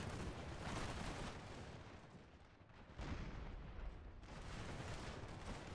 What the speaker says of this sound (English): Nope, that cannon's gone way over.